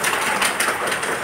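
Steady rain falls on a Diwali evening at a new house in Assam, a dense, even hiss of drops with no breaks and no voices.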